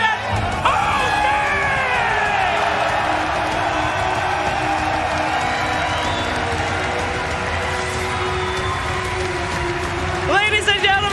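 Arena crowd at the Dota 2 Stockholm Major cheers and whoops for champion OG, a steady roar with whistles and shouts rising again near the end, under a loud announcer's voice.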